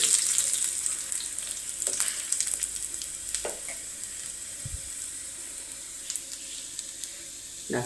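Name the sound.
curry leaves sizzling in hot oil while stirred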